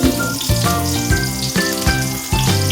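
Garlic frying and sizzling in a pan while Filipino pork sinigang is being cooked, a steady broadband crackle with a few louder bursts and no voices.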